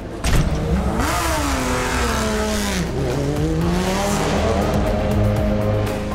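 A Porsche GT race car accelerates hard through a corner during an endurance race, its engine note climbing and dipping as it revs, loud and close throughout with a brief tire squeal early on.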